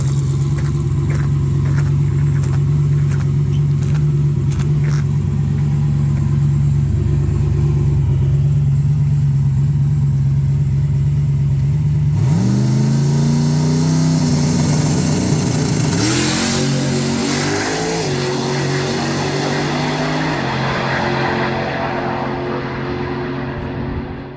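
A turbocharged Fox Body Mustang makes a drag racing pass, its engine droning loud and steady, then rising in pitch through gear changes midway before fading slightly toward the end, with no talking.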